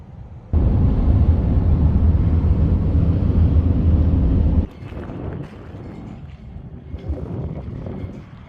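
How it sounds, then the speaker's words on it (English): Strong wind roars and buffets the microphone for several seconds, then eases to a lighter gusty rush. "It's really windy out here."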